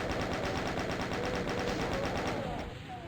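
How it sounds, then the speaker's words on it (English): Rapid continuous chaingun fire in the classic shooter DOOM, a steady mechanical rattle of shots running for nearly the whole stretch before tapering off at the end. "At this distance, the chain gun is a better weapon"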